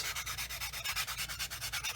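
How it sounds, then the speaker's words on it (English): Rhythmic back-and-forth hand sanding with wide 400-grit sanding sticks on a 1/48 scale plastic P-40F model kit, a steady scratchy rasp repeating about eight times a second, close and fairly quiet. "since I have a lot of room here, I'm using these wide sanding sticks"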